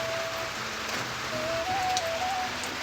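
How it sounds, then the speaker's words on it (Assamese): Heavy rain pours down around a stopped bike near a temple, a dense steady hiss of falling water close by that lasts throughout. "পুৰা বৰষুণ ধাৰাসাৰ"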